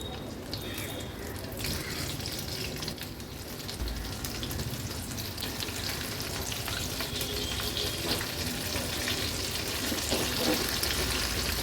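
Garlic cloves deep frying over high flame in oil, a dense continuous sizzle with bubbling and some watery clatter, steady and close, a faint murmur of voice underneath at times.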